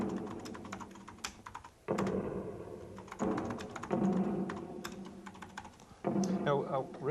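Rapid clacking keystrokes on an Amiga computer keyboard from 1985 run steadily and close, with brief pauses and a few heavier key thunks, under faint background murmur.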